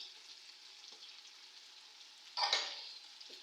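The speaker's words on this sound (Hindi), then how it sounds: "अब चिकन की मैं फ्राई कर लेती हूँ, अच्छी तरह फ्राई हो जाए" Chicken fries in a pan for haleem, a steady soft sizzle with a brief louder burst of spitting oil partway through and faint stirring knocks.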